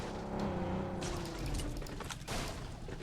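Vehicle engine in the video game PUBG Mobile, a rough, rumbling drone with a swelling pass and some sharp bursts mixed in, fairly loud throughout.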